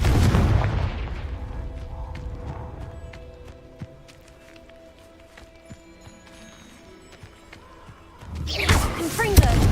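Confringo fire spell blasts in the video game Hogwarts Legacy, loud booming bursts at the start and end around quieter in-game clatter and tones, with a voice shouting over the blasts.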